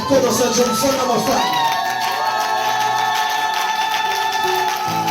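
A congregation at a Wednesday evening church service cheers loudly, with a burst of shouting and whooping voices that gives way to sustained high calls and ululation over a crowd.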